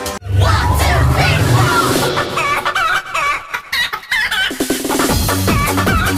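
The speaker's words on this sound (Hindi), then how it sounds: "उसने जग्गू के भयानक इरादों से अनजान होकर पूरे मन से गाना शुरू कर दिया।" A rooster crows loudly and close, with clucking chickens and other fowl calling around it.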